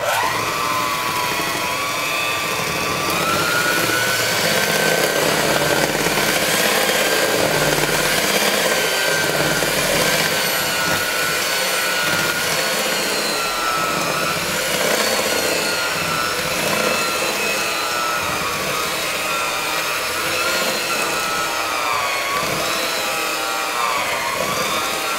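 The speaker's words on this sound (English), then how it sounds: "we're going to mix in our dry ingredients, okay? So just scoot that in there, and then we're going to blend it all up." An electric mixer runs steadily, blending dry ingredients into gluten-free oatmeal chocolate chip cookie dough. Its motor whirs and grinds loudly and continuously from start to finish with no talking.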